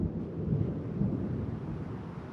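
Low rumbling thunder rolls on through a storm, a continuous deep grumble with slight swells around the first second, steady and fairly distant with no voices.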